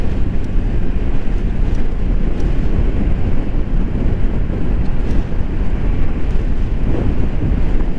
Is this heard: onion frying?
no